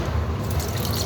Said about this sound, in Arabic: هي مش محتاجة مية يعني، بس احط لها كده حاجة بسيطة